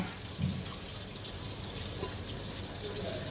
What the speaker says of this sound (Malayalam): വെളിച്ചെണ്ണ ഒഴിക്കാം അല്ലേ?